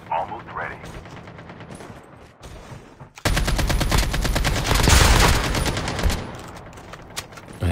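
Rapid automatic gunfire in Call of Duty rattles close behind the player, beginning after a few seconds of softer game sounds and continuing in dense loud bursts, with someone talking over it.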